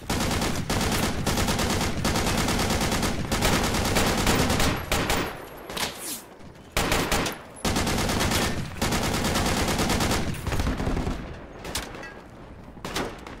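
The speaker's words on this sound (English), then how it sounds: "Oh, we're getting shot." Heavy automatic gunfire roars in the Project Reality combat game, long dense bursts of rapid shots hammering almost continuously at close range, broken by a few short pauses.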